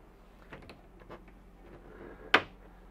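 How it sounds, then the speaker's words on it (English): Folding doors in a 2020 Forest River Berkshire XL 40E RV bunkhouse rattle softly as they fold, ending in one sharp snap from a magnetic latch catching. "I like these doors because first thing you're going to find, it's a magnetic latch."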